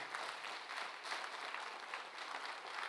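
A small audience applauds in a steady patter of clapping that rises and falls slightly, fairly faint and with no one speaking over it.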